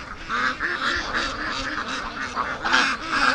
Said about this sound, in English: All right, ducks.